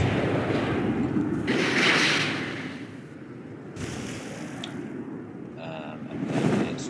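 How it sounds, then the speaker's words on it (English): Airstrike explosions in the strategy game Civilization 4 with the Realism Invictus mod: several broad, rumbling blasts rise and fade over a steady low background. "Another airstrike."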